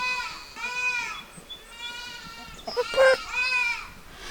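Goats bleat repeatedly nearby, several wavering, nasal calls in quick succession with short gaps, one harsher cry near the end, over faint farmyard background.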